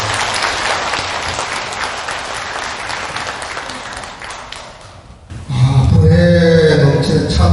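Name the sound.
audience applause at Buddhist ceremony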